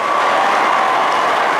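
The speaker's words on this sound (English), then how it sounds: "eliciting rousing applause." Rousing applause from a crowd greets the dramatic entrance of former Anambra governor Peter Obi at an anniversary ceremony. The clapping is dense, loud and continuous, with no voices over it.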